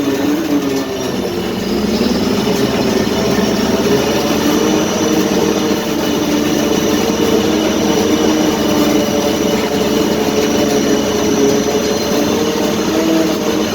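A logging yarder engine roars steadily under throttle, loud and close, with a constant heavy drone and shifting mechanical tones throughout and no voices.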